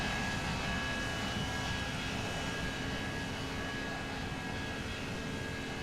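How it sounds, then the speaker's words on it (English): A simulated airliner sits on the runway in the X-Plane 11 flight simulator game, its engines giving a steady, loud, broadband roar and hum that holds unchanged throughout with no talking. "And we got a plane coming onto the runway now."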